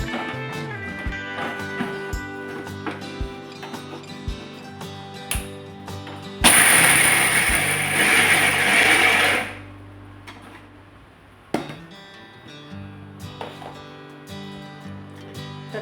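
Roasted peanuts are ground into a coarse powder in a kitchen mixer, giving one loud, steady grinding whir of about three seconds that stops abruptly, set between quieter clicks and handling noises.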